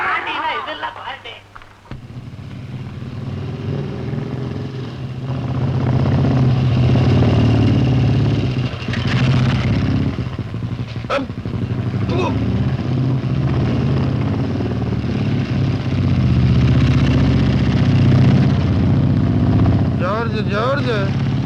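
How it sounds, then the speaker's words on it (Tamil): A Royal Enfield Bullet motorcycle engine runs with a steady, loud low rumble that settles in after a brief quieter start and continues throughout, with people talking over it. "மோட்டர் பைக்லயே போறானே, புல்லட்டுன்னு"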